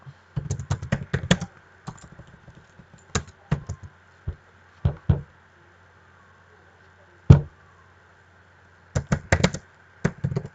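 Computer keyboard keys are pressed in quick bursts of clicks, with a single sharp, louder keystroke standing alone in the middle and short pauses between groups, close and without talk.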